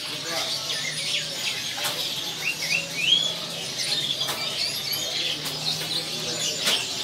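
Small canary chirps and quick twittering trills come in scattered bursts over a faint background murmur, moderately close but not loud.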